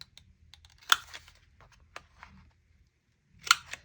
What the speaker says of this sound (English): Now I'm going to round these upper corners.